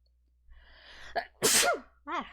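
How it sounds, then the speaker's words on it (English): A single loud sneeze bursts out after a quick sharp intake of breath, followed by a short vocal sound, close to the microphone. "I have to sneeze."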